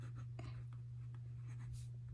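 A Monteverde Innova fountain pen with a fine nib scratches faintly across paper in short, soft strokes, close and quiet above a steady low electrical hum.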